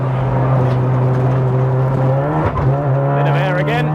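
A tuned 500+ BHP big-turbo MK7 Golf R track car laps the Nurburgring, its engine holding a loud steady in-car drone with a brief dip and pitch shift midway before pulling hard again.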